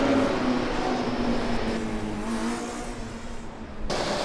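A Formula Student race car engine revving unevenly at an autocross event, pitch climbing and dropping as gear changes struggle with gear selection trouble, then a sudden cut and renewed roar.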